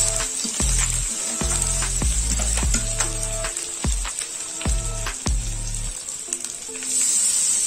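Ginger-garlic paste and spices frying for a country chicken curry, heard as close sizzling broken by repeated knocks and scrapes of a spoon stirring in the pan, in an uneven rhythm.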